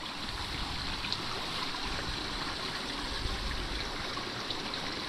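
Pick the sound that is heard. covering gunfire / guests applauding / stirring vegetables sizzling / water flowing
water flowing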